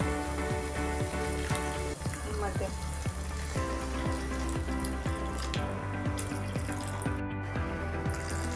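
Water poured into a pan of green peas curry, a continuous close splashing gush that runs through the whole stretch and drowns out any cooking sounds.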